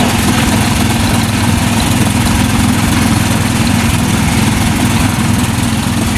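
An old engine-driven machine dating from 1992 runs continuously, with a loud, close, rough idling drone that stays steady throughout and has no pauses.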